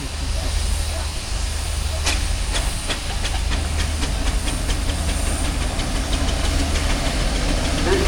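A Fowler steam traction engine at a steam rally runs loudly with constant hissing steam and a low engine rumble, with regular sharp knocks ticking over the roar and a voice speaking now and then.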